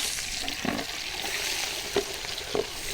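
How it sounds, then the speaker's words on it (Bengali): Onions fry in oil in a pan for egg curry, giving an even, close sizzle with a few soft stirring scrapes and bumps, and no voices. "এখন আমরা পেঁয়াজটাকে একটু ভাজা ভাজা করে নিব"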